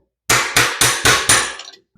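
A hammer strikes the shock spring collar on a YZ450F five times in an even, quick rhythm, each hit a sharp, close metallic clank with a short ringing decay, then quiet.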